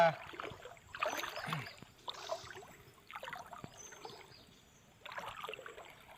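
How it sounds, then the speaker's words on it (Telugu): Someone wades through knee-deep water in a forest stream, with repeated sloshing and splashing strides in a loose rhythm and quieter gaps between them, heard close up. "భలే లోతున్నాయి నీళ్ళు కూడా, మోకాల వరకు వస్తున్నాయి"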